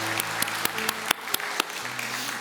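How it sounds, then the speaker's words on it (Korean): A church congregation at a Sunday service claps in blessing for its elderly members, with a few sharp, spaced claps over a low sustained tone and faint background murmur. "우리 70세 이상 되시는 분들 더 건강하시라고 우리 축복의 박수 하도록 하겠습니다"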